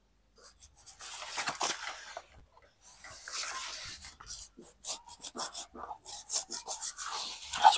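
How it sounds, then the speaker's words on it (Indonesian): Rough, rasping hand-saw strokes grind through gritty ground soil and roots around a bonsai stock plant, coming in irregular bursts close by, with brief pauses between strokes. "Ini saya gergaji keliling nih"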